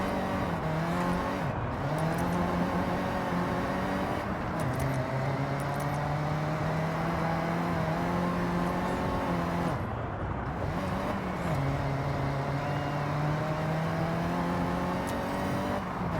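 In the Forza Horizon video game, a Volkswagen Golf rally car on rally tyres drives an off-road trail turning muddy in the rain. The engine drones and revs steadily with gear-shift dips, and tyre and gravel noise runs underneath.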